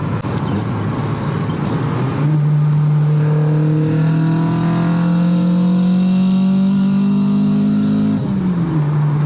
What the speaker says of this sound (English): It's just ITB noise now.